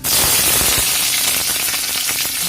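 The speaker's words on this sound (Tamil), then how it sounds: "இப்போ கடலை பருப்பு பொரியிறப்போ நான் ஒரு 3 பச்சை மிளகா போடுறேன்." Green chillies and chana dal sizzle in hot oil for a tapioca (kuchikilangu) poriyal, a loud, steady, dense crackling fry with no voices.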